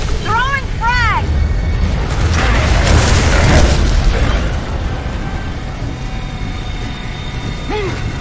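A frag grenade explodes in Gears of War 3 with a loud, deep boom, and the blast rumbles and fades over several seconds. Short shouted voices and alarm-like tones come before it and again near the end.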